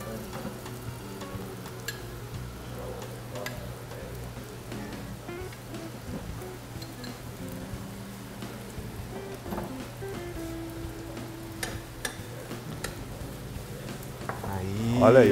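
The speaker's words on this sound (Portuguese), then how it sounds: "Vou misturar os brócolis agora." Rice with chopped cooked broccoli and a little butter stir-fried in a pan, a steady sizzle with scattered scraping and clinking of the utensil throughout, close and moderately loud.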